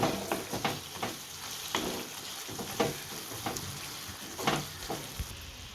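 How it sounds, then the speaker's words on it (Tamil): Fried onions are stirred into chicken tikka biryani masala in a pan, giving a soft continuous sizzle broken by repeated rhythmic spoon scrapes and stirring thumps. "ஃப்ரைடு ஆனியனை இதில் கொஞ்சம் சேர்த்துக்கிறேன் இப்போ நல்லா மிக்ஸ் பண்ணி விட்டுருவோம்"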